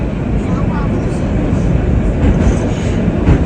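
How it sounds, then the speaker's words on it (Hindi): A metro train in Baku rumbles steadily and loudly with a broad, continuous roar, heard close from on board or at the platform, while someone talks over it. "और ये वाली नई मेट्रो आई आज इनकी"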